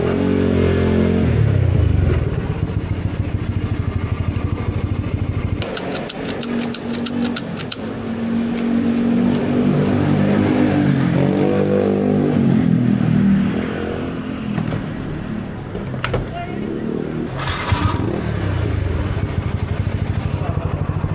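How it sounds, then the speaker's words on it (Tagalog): A motorcycle engine idles and revs at a fuel stop, running continuously with irregular clattering pops and sharp bursts that fit backfiring, close and loud throughout. "Sabi ko pa dito, nagbabackfire yung motor ko."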